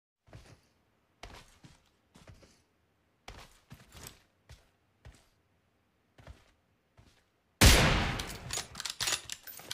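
Gunfire from a first-person shooter game erupts in a loud, dense burst near the end, following scattered footsteps and quiet in-game movement thumps.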